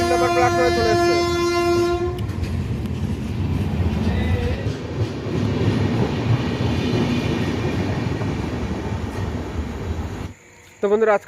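A Balurghat–Sealdah Express arriving at platform three of Katwa station: a long horn blast at the start gives way to loud, steady rumbling and rattling of the passing train for several seconds, ending abruptly near the close.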